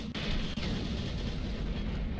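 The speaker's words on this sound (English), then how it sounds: "How about the rocket launcher?" Dense, continuous roaring blast from a rocket launcher fired in Doom 3 BFG Edition, loud and sustained with no clear gaps, alone without talk.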